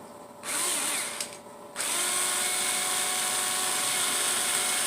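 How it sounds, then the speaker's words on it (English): Small handheld drill boring a hole through a stack of items, a steady high whine starting briefly, pausing, then running continuously and close. "took my little drill, and just in the middle, I drilled a hole through all of them"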